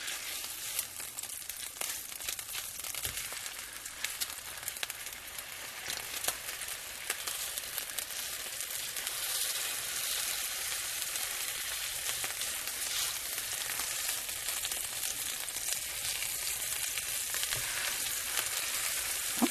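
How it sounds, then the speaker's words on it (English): Butter browning in a pan for pork chops with mushroom gravy, a continuous close crackling sizzle that grows slightly denser over time, with occasional faint pops and no speech. "my butter is browning"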